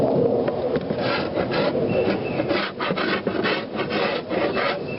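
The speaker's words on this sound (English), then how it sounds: "I'm going to scrape the propolis off of this first, best I can." Steady rasping scrape of a tool dragged repeatedly across a wooden beehive frame, scraping off propolis, close and continuous with rhythmic strokes and no talking.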